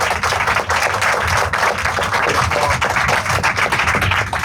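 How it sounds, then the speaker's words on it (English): Dense, steady applause from a large audience after a student team's presentation on the Jagriti Yatra, a close crackle of many hands holding at even strength for the whole stretch. "can we have a huge round of applause for them?"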